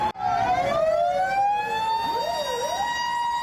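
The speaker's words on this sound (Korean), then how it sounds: "주민들을 깨운 건 소방차 사이렌" A wailing fire truck siren sweeps up and down, loud and fairly close, with a second siren tone rising in the background, responding to a large boiler factory fire in Asan, South Korea.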